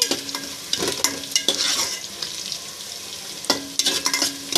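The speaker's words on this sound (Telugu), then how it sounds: "చూడండి ఉల్లిపాయలు అయితే ఏగిపోయినాయండి." Onions frying in a pan give a steady close sizzle, broken by a few quick scraping stirs of a spoon, with no one talking.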